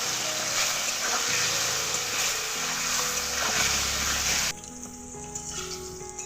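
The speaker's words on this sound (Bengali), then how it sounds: "হলুদ গুঁড়ো দিয়ে আলুগুলোকে লাল লাল করে ভেজে নেবো" Potatoes frying in oil with salt and turmeric make a dense, loud hiss that abruptly drops to a quieter bubbling sizzle partway through, with no talk.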